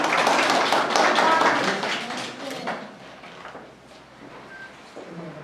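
An audience at a children's reading contest and Librarians' Day event in Sieroszewice claps, loud and busy at first, then thinning and fading toward the end.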